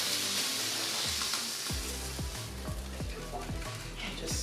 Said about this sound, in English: I'm going to add our bacon now to the pan.